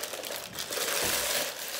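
Baking paper crinkles and rustles steadily for a couple of seconds as chicken is placed in it, close and fairly loud, with no talking.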